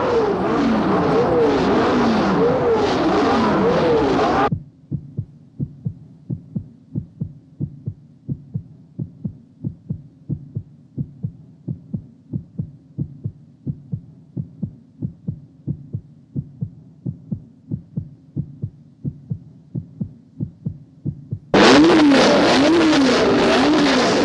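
Formula One race car engines rev loudly at a Grand Prix start in two bursts, one opening and one closing, with a steady low rhythmic pulsing like a heartbeat between them.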